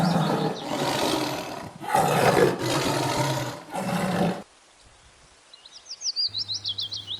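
A big cat's deep, loud roar repeats in several long bursts, then gives way to chirping birds and a short run of rhythmic low grunts.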